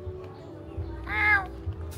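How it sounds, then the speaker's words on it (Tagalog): A cat in a cafe gives a single drawn-out meow partway through, standing clearly above the steady low hum and murmur of the room. "may pusa sa cafe na ito."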